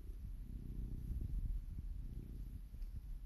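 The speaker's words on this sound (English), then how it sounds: "Can you hear him purring?" A muddy male cat purrs up close, a faint, low, continuous rumbling with a gentle pulsing rhythm and no voices over it.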